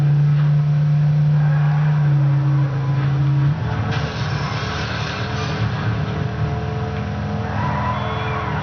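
Car engine in the Midnight Club LA video game driving in second and third gear: a steady drone holds, then shifts near the middle into a rougher, revving engine note that carries on loud to the end, with no talk.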